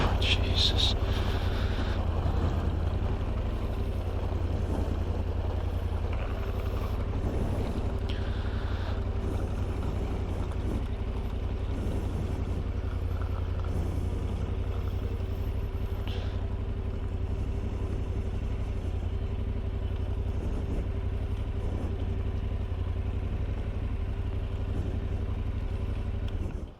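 A motorcycle rides off a river ferry on arrival in Guyana, its engine a steady loud drone under heavy wind buffeting and boat noise, with no clear voices.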